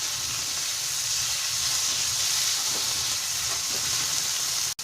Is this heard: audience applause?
no